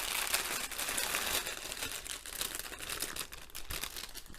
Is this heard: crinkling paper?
yes